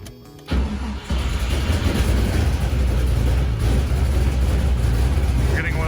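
An LS V8 swapped into a Miata cranks with a short starter whir, then catches and settles into a loud, steady, rough idle that runs on without a break, close to the listener.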